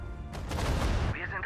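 Panzerwerfer rocket artillery firing in the Sudden Strike 4 war game: a dense, rumbling volley of booms that swells and sustains for about a second, loud and heavy, with a higher whistling tone trailing at the end.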